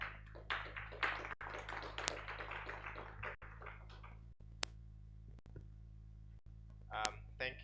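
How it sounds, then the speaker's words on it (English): A symposium audience claps for a team leaving the stage, a scattered burst of hand claps that thins out over a few seconds, with light tapping afterward. "Can clap for them until they sit."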